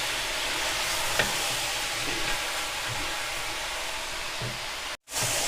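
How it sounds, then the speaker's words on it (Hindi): Salted onions fry toward golden brown for keema matar, a loud, continuous close sizzle with faint stirring underneath and a brief cut near the end. "हमारे प्याज हल्के से गोल्डन ब्राउन हो रहे हैं"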